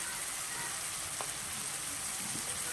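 Potatoes frying in oil for a vegetarian aloo dum give a faint, steady broadband hiss like light rain, with one brief soft click partway through and no voices.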